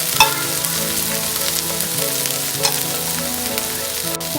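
Steady frying sizzle of oil on a kari dosa crackles continuously at moderate volume, with occasional small pops and a faint musical tone underneath.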